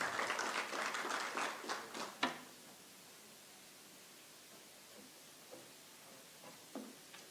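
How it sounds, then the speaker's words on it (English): An audience at a Future of Work summit applauds as a speaker comes on stage: a full round of clapping for about two seconds, then a few scattered, fading claps in a quiet hall. "A round of applause for Muthau."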